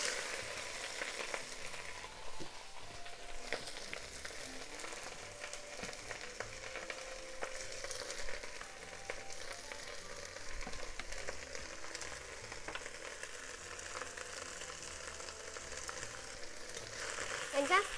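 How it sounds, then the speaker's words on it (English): Spinach stems and garlic stir-fry in vegetable oil in a pot, giving a quiet, steady sizzle with occasional light scrapes of stirring, faint and even throughout. "And just stir fry it until it's wilted."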